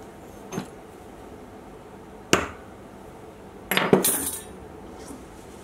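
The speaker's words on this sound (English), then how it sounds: "We can then swap it out for the punch and then lightly hit it with a hammer." A hammer lightly taps a centre punch: three separate sharp metallic taps, spaced apart, with the last strike a quick double hit, close by over a quiet background.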